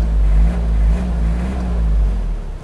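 A 1992 Toyota Hilux 4x4 engine revving close by, a loud, deep rumble rising and falling in a couple of surges over steady idle, with no speech.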